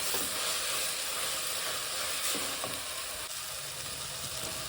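About a hundred grams of gongura leaves fry in a pan for pulao, giving a steady, fairly soft hiss and sizzle with a couple of faint stirring taps.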